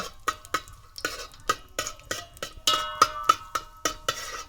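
Cashews and almonds are stirred in a pot for a homemade cake, with a spoon striking the metal in a steady series of close, bright clinks about twice per second.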